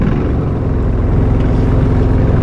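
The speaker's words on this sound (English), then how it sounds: "Start my pump." Fire truck pump engine running, a loud, close, steady rumbling drone with no break and no talk.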